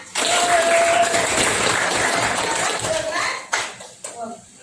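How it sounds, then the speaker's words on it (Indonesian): Schoolchildren clap together in a classroom, a brief burst that trails off into a few separate claps, with children's voices mixed in. "Beri tepuk tangan"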